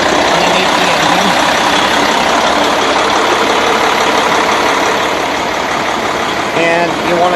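Truck engine idling during a pre-trip inspection, a loud steady diesel rumble running throughout while someone talks over it close by.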